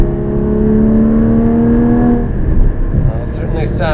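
A Porsche Cayman GT4 engine revs hard with a steady, rising tone heard from inside the car, then eases off into a rougher lower note, loud and close throughout.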